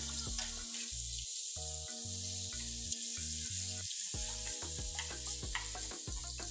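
Steady hissing sizzle of pork carnitas frying in hot oil, continuous and close, with a tonal musical hum running underneath.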